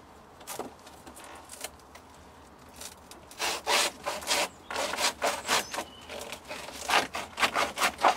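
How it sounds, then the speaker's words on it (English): Stainless steel serrated kitchen knife sawing through the stem of an Ensete hinba plant, quiet handling at first, then a run of rhythmic rasping strokes, close and steadily strengthening. "I'm going to use a sterilised, clean stainless steel serrated kitchen knife. So I will cut through here."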